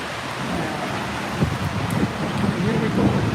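Steady rain falling outdoors in a stormy setting, a dense continuous wash of noise with low rumbles and scattered louder patters, with faint voices mixed in underneath.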